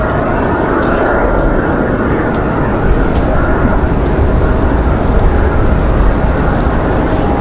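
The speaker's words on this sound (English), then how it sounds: "Got an exec jet on final." A Cessna Citation X business jet on final approach to Raleigh-Durham International airport roars loud and steady in strong wind, its broad engine rush filling the whole stretch with a constant, close wash of noise.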